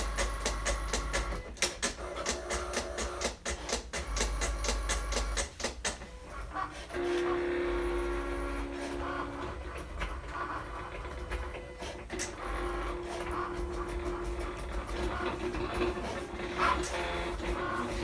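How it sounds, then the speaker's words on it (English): A Silhouette Cameo 3 and a Cricut Maker cutting machine run side by side, producing a steady mechanical whir with rhythmic motor pulses, carriage clatter and whining tones throughout. "So far you can hear the sound. The Silhouette is so much louder than the Cricut Maker."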